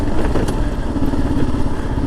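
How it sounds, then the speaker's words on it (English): Kawasaki KLR650 dual-sport motorcycle riding on a gravel road, steady engine drone with a continuous rough crunch of tires over loose stones, close and loud with no talk. "So the KLR is definitely not as nimble as that 250, obviously, in the gravel and stuff."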